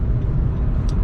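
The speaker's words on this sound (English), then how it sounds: "In the car on the way to the track." Steady low road rumble inside a car driving toward Wild Horse Pass Motorsport Park, a continuous dense drone with no talk and a faint brief hiss near the end.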